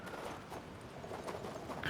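A horse's hooves clip-clop at a walking pace in the video game King's Bounty 2, giving a steady rhythmic patter of soft thuds over quiet ambient background.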